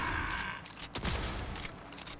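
Jakobs Hellwalker legendary shotgun firing in Borderlands 4, several heavy blasts in quick succession, loud and close, each a sharp broadband burst over continuous game background noise.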